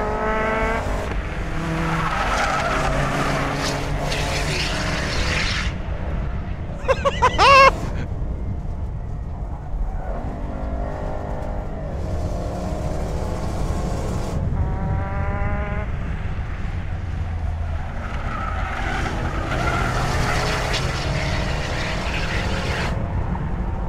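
A Land Rover Bowler EXR S races around an outer handling circuit, its engine note rising and falling through gear changes with tire squeal and skidding, loud and continuous from start to finish.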